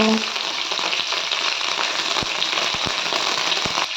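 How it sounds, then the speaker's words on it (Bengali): Hilsa fish head frying in hot mustard oil, a dense steady hiss of sizzling close by with a few sharp pops and crackles toward the end. "তেলটা গরম হয়ে গেছে এবার তেলের মধ্যে আমি মাছটা দিয়ে দিলাম একটু নেড়ে নেব"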